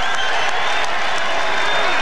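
Loud, dense roar of a boxing crowd on its feet in Portland during a heavyweight bout, continuous cheering and clapping filling the arena.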